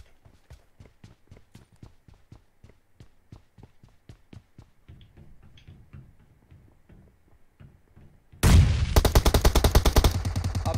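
Gunfire from an MK14 rifle in PUBG Mobile: soft rapid clicks and pops for about eight seconds, then a sudden, loud, dense burst of sustained shots that keeps going to the end.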